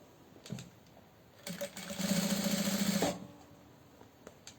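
An industrial sewing machine stitches fabric for a small organizer basket in a steady whirring run of about a second and a half, with a few short clicks before and after, close and fairly quiet.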